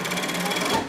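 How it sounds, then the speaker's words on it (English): A sewing machine stitches handbag fabric at a bag-making company, its needle hammering in rapid, even pulses that sound close and steady. "With a sewing machine as the instrument, the needle sharp pulses as the music"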